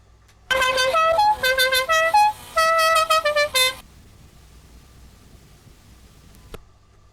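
Air horn sound effect played back from an ITC 3D NAB cartridge machine, a loud sequence of short tonal horn blasts in a rapid stuttering pattern lasting about three seconds, then near silence with a faint click.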